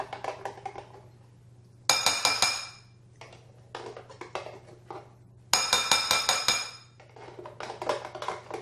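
Glass clinks and clatters as mustard is spooned into a bowl of homemade bleu cheese dressing, two bright bursts of knocking against the jar or bowl amid quieter tapping, close and fairly soft.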